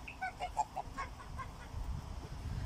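Several geese honk in quick, uneven bursts at close range, then give way to a low, rumbling background noise.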